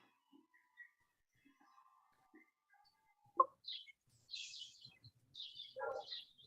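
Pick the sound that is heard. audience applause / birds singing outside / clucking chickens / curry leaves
birds singing outside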